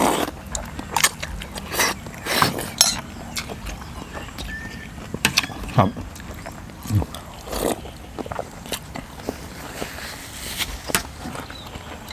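Someone eats a giant bowl of waterfall noodle soup with beef meatballs and fresh vegetables, with close, irregular bites and chewing sounds over the whole stretch.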